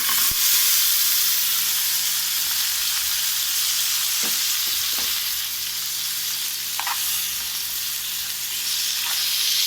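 Tomatoes sizzle and fry steadily in a pan while a paneer curry base is being prepared, with a continuous close hiss and a few faint scraping stirs, and no talking.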